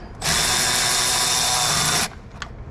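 A power tool drives head bolts on a 6.4L Power Wagon engine, giving one loud, steady whir of nearly two seconds that stops abruptly, followed by a brief faint click.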